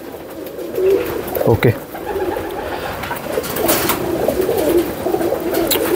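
Teddy pigeons coo steadily up close in a loft, overlapping soft rolling calls, with a brief spoken word and a clatter early on.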